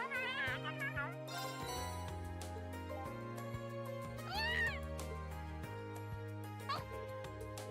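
A cat meows repeatedly in the Trails of Cold Steel video game, several short rising and falling mews over steady game background music, fairly close and clear with no talking.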